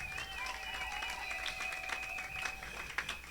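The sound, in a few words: church congregation applauding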